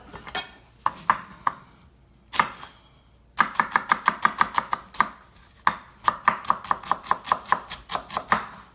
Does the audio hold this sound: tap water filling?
no